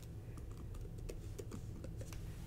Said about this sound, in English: I'm actually going to type it here.